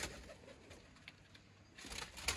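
Teddy Sialkoti golden pigeons at a breeder's loft give soft, faint cooing against a low, steady background hum, with a couple of brief louder bursts near the end.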